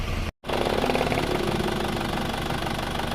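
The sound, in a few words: car engine running after overhaul, test drive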